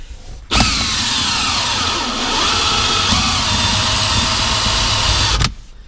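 A loud, steady motor whine starts abruptly, holds for about five seconds with slight pitch shifts, then cuts off, like a power drill running.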